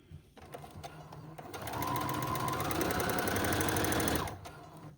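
A sewing machine stitches falls onto the hem of a saree: a rapid, even mechanical whirring run that builds, holds steady for a few seconds and then stops, close and fairly quiet, with no talking.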